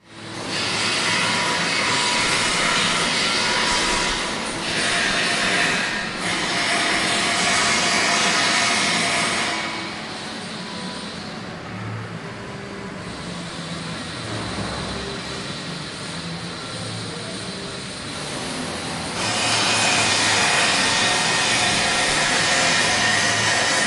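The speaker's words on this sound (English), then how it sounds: "So we'll bolt this thing down and start grinding rings." A piston ring grinder grinds ring gaps for a Buick V8, a continuous loud motorized whine and rush that drops in level for several seconds partway through, then rises again.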